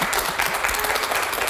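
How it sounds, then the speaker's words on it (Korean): Brief burst of studio audience applause on a Korean TV health program, a dense, steady patter of many hands clapping close by with no voices over it. "박수 부탁드립니다"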